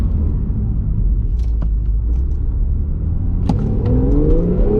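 A Porsche 911 Targa 4S (991.2) engine surges steadily on a straight, a broad continuous roar with whirring tones rising near the end as it picks up speed.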